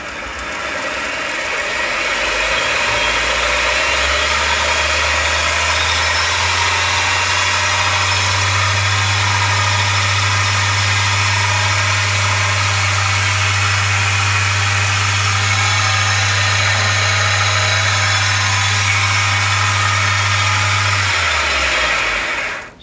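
A mini lathe motor runs up to about 1900 RPM after a headstock adjustment, a loud steady hum that climbs in pitch over the first few seconds, holds a constant whine with broadband mechanical noise, then cuts off at the end.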